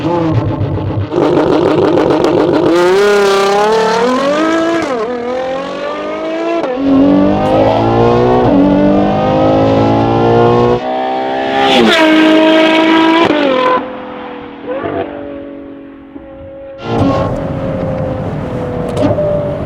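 The V12 engine of a Novitec-tuned Ferrari Purosangue revs hard in repeated rising and falling bursts, loud and close, with brief pauses between the throttle blips.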